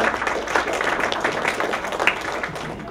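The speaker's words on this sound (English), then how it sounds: "So a big hand of Round of applause for Jennifer" Applause in a library gathering, a short burst of dense clapping heard at moderate distance that stays fairly even throughout.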